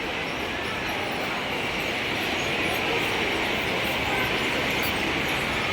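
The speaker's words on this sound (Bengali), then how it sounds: "ট্রেন যাচ্ছে" A train passes near a city centre during a Christmas outing, filling the scene with a steady, loud, broadband rumbling roar that holds evenly from start to finish.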